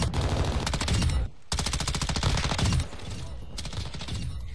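Loud, close bursts of Soviet rifle fire in Warzone 2, a long rapid string of shots, a brief pause, then another sustained burst that trails into a slightly quieter volley.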